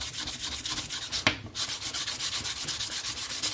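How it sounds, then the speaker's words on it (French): A 140-grit sanding block rubbed by hand along a wooden branch, close up, in quick, even back-and-forth strokes with one brief sharper scrape. "je vais venir faire sauter avec ma cale avec un grain de 140"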